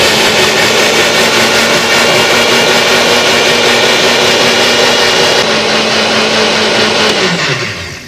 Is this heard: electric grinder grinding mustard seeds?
yes